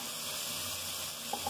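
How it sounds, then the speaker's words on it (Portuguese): Peppers and coriander stems sizzle steadily in a hot pan as they are sautéed for a rooster-head broth, a close, continuous hiss with a soft stir near the end. "Com tudo refogado, eu vou entrar agora com pimentão"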